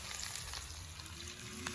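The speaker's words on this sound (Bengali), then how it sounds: "এবার এই পরিমাণ আমি এখানে জল দিয়ে দিচ্ছি" Water hits a hot pan of village-style chicken curry, giving a steady, close, broadband sizzle that holds evenly for the whole short stretch, with no voices.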